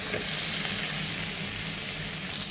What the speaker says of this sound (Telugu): ములక్కాడలు కూడా కొంచెం వేగాలండి.